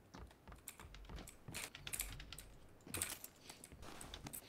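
Clicky keyboard typing in quick irregular bursts, close and fairly loud, with no voices.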